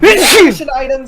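A single sharp human sneeze, loud and close, with a quick breathy burst followed by a short trailing exhale and brief speech right after.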